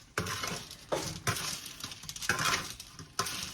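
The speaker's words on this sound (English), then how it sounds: "we're just going to toss before we put this back in the oven" Roasted carrots tossed in a honey balsamic glaze on a hot pan, with several sharp scraping and clattering strokes and soft sticky sizzling between them, close and moderately quiet.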